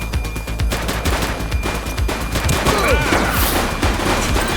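Sustained rapid gunfire from a police shootout in The Precinct video game, dense overlapping bursts of shots rattling continuously and loudly throughout with faint voices mixed underneath.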